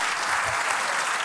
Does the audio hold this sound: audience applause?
yes